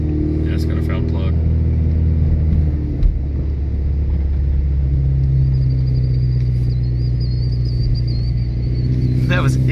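A 2017 Chevrolet Camaro's 2.0-liter turbo four-cylinder idles roughly with a bad misfire from a dead cylinder and fouled plug, giving a loud, close, uneven low rumble throughout with brief voices and clatter over it.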